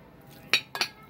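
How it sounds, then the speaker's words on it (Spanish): A teaspoon clinks twice against a bowl while milk is added to Dominican yuca dough for arepitas, two short, bright metallic taps close by in a quiet kitchen. "Voy a agregarle otra cucharadita de leche."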